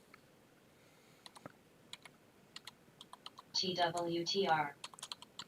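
Scattered clicks of typing on a computer keyboard, irregular and fairly close, with a voice briefly speaking over the keys in the middle before the tapping resumes.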